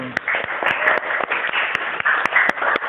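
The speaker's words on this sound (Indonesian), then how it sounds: "anak-anak, tepuk tangan untuk Dani, Nina, dan Reni" Children clap in a Grade 6 Islamic jurisprudence class at a Jombang madrasah primary school, giving scattered, uneven hand claps that come close and fairly loud for about three seconds with no steady rhythm.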